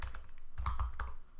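Quiet, rapid keystrokes on a computer keyboard while Python Turtle graphics code is typed, an irregular run of soft clicks with a few brief pauses.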